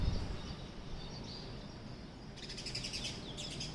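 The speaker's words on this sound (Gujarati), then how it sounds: "ચકલી તો અમારે હમણાં બહુ જ ચીંચી કરે છે" House sparrows chirp and tweet around a home, their quick calls repeating over a dense, hissy outdoor background at moderate distance, with no talking.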